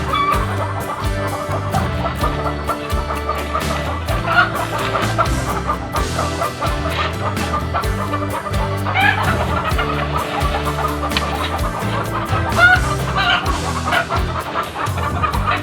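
Chickens cluck steadily and noisily throughout, several birds close by, with busy overlapping calls and occasional louder squawks.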